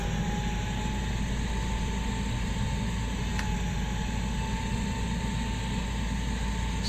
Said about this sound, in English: It's not a bad tractor, this little Fenton.